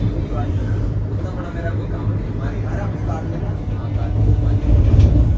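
Vande Bharat sleeper train pulling out of Barsoi station, a steady low rumble of wheels and carriage noise that swells toward the end, heard from inside the coach.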